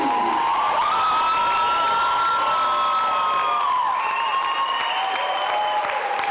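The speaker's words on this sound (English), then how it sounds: "Look at that standing ovation for a superstar that deserves it." A wrestling crowd at an indoor show gives a standing ovation, with sustained loud applause, cheering and whoops that fill the whole moment without a break.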